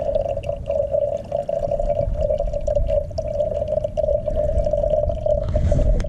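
Water trickles through a backpacking water filter outdoors, a steady close pouring stream with a sustained tonal ring, running continuously without talk.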